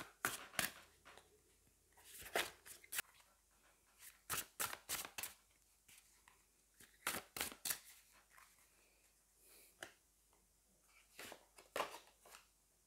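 Oracle cards being shuffled by hand close up, making crisp riffling flutters and sharp snaps in quick repeated bursts separated by short pauses.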